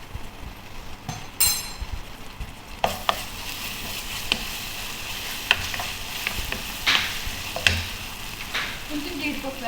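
Ginger garlic paste frying and stirred in a hot pan for an Arabic-style chicken curry, a steady close sizzle broken by repeated scraping strokes of a spoon.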